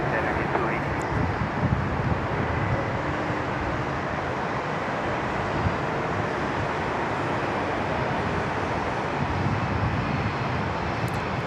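A steady, broad roar of an airplane engine at Sydney Airport, sounding fairly close and sustained across the stretch with wind buffeting the microphone, with no talking over it.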